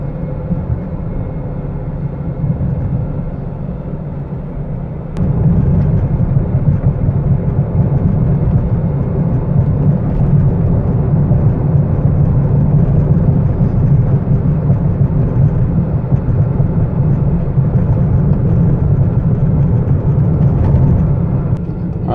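A 2011 BMW 328i convertible cruises along the road, its steady engine drone and tyre roar holding level throughout, stepping up in loudness after a few seconds as the car picks up speed, with no talking.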